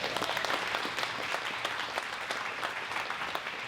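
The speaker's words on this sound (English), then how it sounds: "Let's one more round of applause." A crowd at an author book event claps in sustained, even applause that carries at a steady level throughout without any voices.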